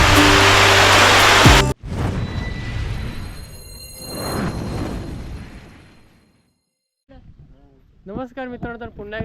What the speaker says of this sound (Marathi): लय जोरदार पाऊस आला